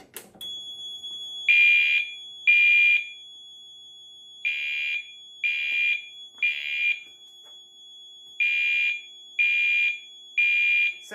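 A Notifier fire alarm panel sounder set to a 2400 hertz tone gives out short, shrill, evenly sized beeps in spaced groups over a thin steady whine, loud and close in a quiet room.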